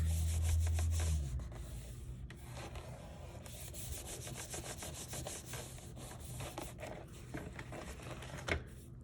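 Fingers rubbing and pressing down paper on a handmade no-sew journal, a close, continuous dry scuffing and brushing with light taps, no voices.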